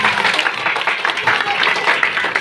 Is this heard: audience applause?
yes